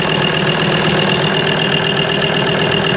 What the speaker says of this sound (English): I don't know if you guys can hear these injectors, man. This thing is loud.